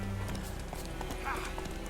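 In The Witcher 3 video game, hooves clip-clop in a quick rhythm while a horse gives a short whinny, all faint beneath a background hum.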